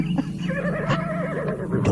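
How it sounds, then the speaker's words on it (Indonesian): A horse neighs loudly and close by, a long quavering whinny of almost two seconds, rising and falling, with faint clip-clop and no talk. "suara lagi kuda. Ada yang datang."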